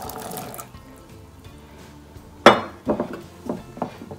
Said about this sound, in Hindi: चने डालिए।